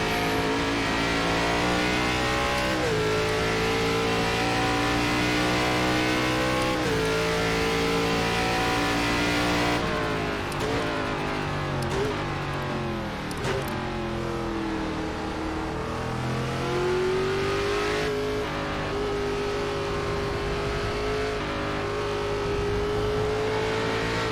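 Race car engine in an ARCA series car on the Indianapolis road course in iRacing, held in second gear and revving steadily for the whole stretch, with pitch rising and dipping through shifts and lifts, loud and close with no talk.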